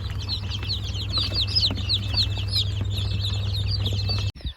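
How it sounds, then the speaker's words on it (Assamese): Local chicken chicks on a poultry farm in Assam cheep and peep continuously as a dense chorus under a steady low hum, ending with a brief bump and shuffle. "এইখিনি হ'ল লোকেল মুৰ্গী পোৱালি"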